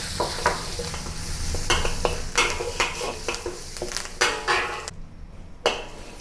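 Two dry chilies and garlic stir-fried in a wok produce a sizzle broken by repeated scraping and clanking strokes of a spatula against the metal. The strokes come in an irregular rhythm and there is no speech.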